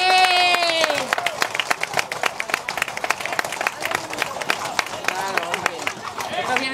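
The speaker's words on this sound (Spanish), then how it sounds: "Vamos a aplaudirlo, hombre." A crowd applauds at a horse event during the Rocío de Castilla pilgrimage, with dense, rapid clapping and loud cheering close by and voices calling out over it.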